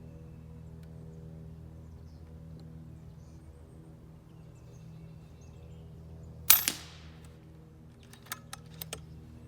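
An FX Wildcat MKII .25 calibre air rifle fires a single sharp crack at a target thirty yards off, close and loud against a quiet hum, followed a moment later by a few smaller metallic clicks.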